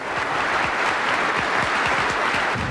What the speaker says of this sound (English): The applause from the hundreds of thousands watching on TV screens outside, contagious, spreading to the guests inside.